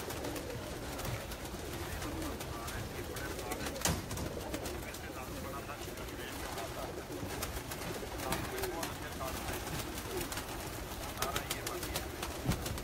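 Several pigeons (kabootar) coo in a dense, continuous flock murmur at a pigeon keeper's loft, steady and moderately loud throughout, with faint voices and background bustle mixed underneath.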